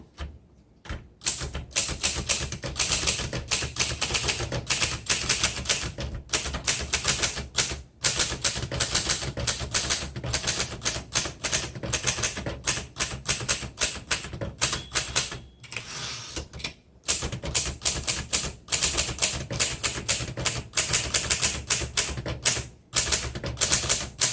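Rapid keystrokes clatter from a 1955 Underwood Universal portable typewriter, loud and close, in dense bursts broken by short pauses and occasional carriage returns, with no talking over it.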